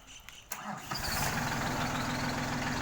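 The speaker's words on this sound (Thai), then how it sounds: "ติดสตาร์ทเครื่องครับ" A New Holland 38 hp tractor engine cranks for a moment, then catches and roars into a steady, loud diesel idle close by.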